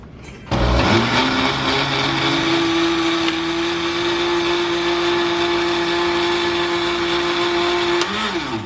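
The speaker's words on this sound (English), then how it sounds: "Alright, and we're just gonna blend this." A food blender whirs up oatmeal, cornmeal and banana porridge ingredients, kicking on abruptly and running loud and steady with a strong motor hum before slowing near the end.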